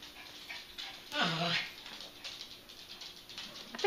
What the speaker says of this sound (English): I think Louie just growled at me for saying that.